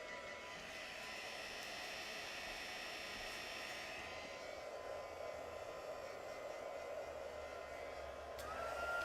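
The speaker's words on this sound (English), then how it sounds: "So I'm grabbing my heat gun and I'm going to heat emboss" Heat gun blowing hot air for heat embossing on a craft project, a steady, fairly faint whooshing hum that runs continuously throughout with no break.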